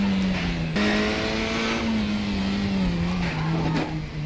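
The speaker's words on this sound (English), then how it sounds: "I'm not a fan of the engine note of the KTM crossbow" KTM X-Bow racing car in a racing game at Knutstorp, a steady droning engine note holding a nearly constant pitch with a slight shift partway, loud and close throughout.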